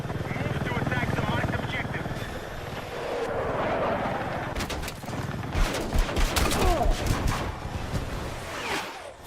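A helicopter in the Battlefield 6 video game drones with a steady rotor thrum that gives way to rapid bursts of gunfire, while a person talks over the action.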